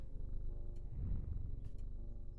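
A cat purrs softly in the video game Strange Antiquities, a low, rumbling, steady purr heard close up for a brief moment with no voices.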